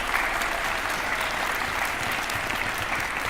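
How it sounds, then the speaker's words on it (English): An audience at an event where Nevada's governor introduces an education proposal breaks into applause, a brief, thick burst of steady clapping with no speech over it. "so let's give her a round of applause."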